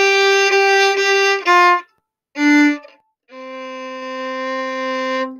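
Bowed string instrument playing the closing measures of Buffalo Gals, a few short separated notes followed by a longer sustained tone, clear and close with no talking.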